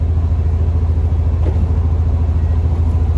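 A car engine, fitted with a new fuel line, runs smoothly with a loud, steady low rumble and no stumbles or sputters, heard from inside the vehicle.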